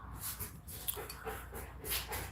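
A puppy whimpers in soft, repeated whines indoors, moderately close but fairly quiet, with steady background noise and no talk over it.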